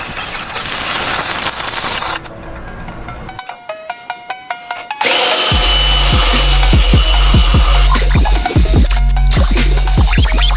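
While a bumper is bolted onto a Jaguar XJS wagon, a power tool whirs and buzzes in short repeated bursts, loud and close, with clanking and rattling around it and no speech.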